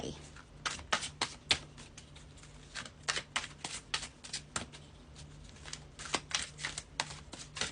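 Fortune-telling cards shuffled by hand, a rapid series of crisp riffling snaps and flutters in close bursts, repeating steadily throughout, with a faint low hum beneath.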